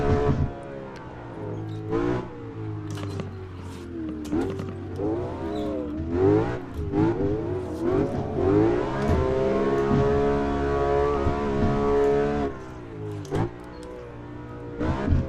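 A BMW E92 M3 engine in the video game Assetto Corsa revs repeatedly, its pitch climbing and falling in waves with a sustained high rev near the middle, loud and steady throughout.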